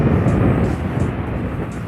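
A Yamaha FZ-07 (MT-07) motorcycle engine runs steadily at modest throttle while riding, giving a continuous low rumble mixed with wind roar and no talking.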